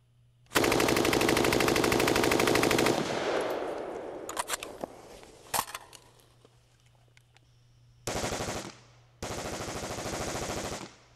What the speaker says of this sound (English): We have a little video that vividly demonstrates the power and the rapidity of what a bump stock does.